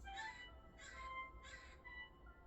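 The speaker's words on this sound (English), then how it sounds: "Surely as that crow just cawed" Three harsh caws from a crow at a moderate distance, evenly spaced about half a second apart, then quiet outdoor ambience.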